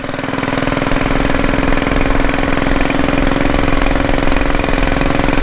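A mud motor engine on a small river boat runs steadily at low throttle while heading upstream, a loud, continuous, close drone with a low rumble and no speech.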